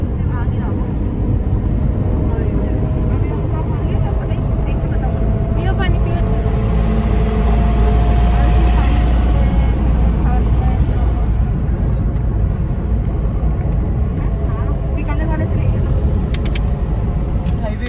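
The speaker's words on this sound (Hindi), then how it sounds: "ये ट्रैफिक है गाँव से" Heavy, steady road traffic roars on a highway near Jaipur, a dense continuous rumble of engines passing close, with a brief swell midway.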